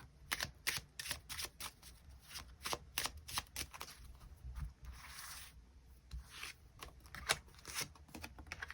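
Tarot cards being shuffled by hand, soft riffling and sliding in repeated close bursts, quiet with no talk over it.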